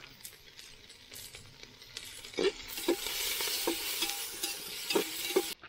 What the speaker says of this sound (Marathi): कांदा फ्राय होतोय.